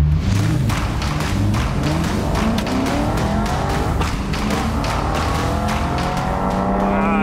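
A cheap used supercar brakes hard from speed during a braking test, a loud engine roar winding down through falling gear shifts with tyre squeal and thumps, close and continuous.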